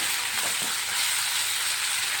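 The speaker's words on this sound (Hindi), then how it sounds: "अब हम इसमें 1 चम्मच अदरक लहसुन का पेस्ट डाल देंगे और इसको भी डाल करके हल्का सा प्याज के साथ भून लेंगे" Sliced onion and ginger-garlic paste fry in a pan with a steady, dense sizzle that stays close and even throughout, with no talking.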